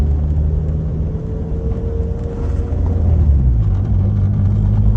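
Rich 2G car driving through a corner, a steady low engine rumble and road noise that swells slightly toward the end, with a faint rising whine in the middle.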